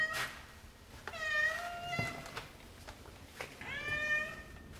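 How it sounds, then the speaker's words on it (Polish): A house cat gives two long drawn-out meows, close and clear, separated by a pause filled with faint rustling and handling noise, in a quiet indoor room. "Jak przyjechaliśmy do domu, przywitał cię nasz kotek Sati"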